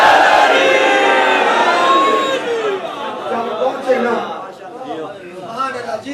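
A crowd at a Muharram gathering in Greece shouts a loud chanted slogan response, many voices together in sustained, tonal cries that fade into rhythmic, rolling group chanting.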